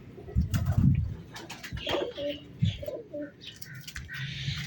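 Pigeons coo close by in windy open air, several soft throaty calls in a loose series with light chirps and rustling between them.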